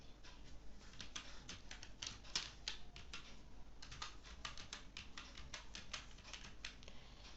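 Steady typing on a computer keyboard while entering data in accounting software, a quick run of light key clicks heard up close and fairly quiet, with no one speaking.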